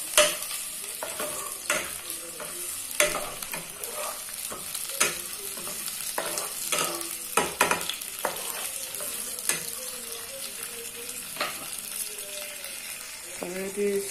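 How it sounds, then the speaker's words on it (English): Sliced scotch bonnet pepper sizzles loudly in a hot frying pan while a utensil scrapes and stirs it in repeated clattering strokes, with a person talking over the cooking. "Already sizzling."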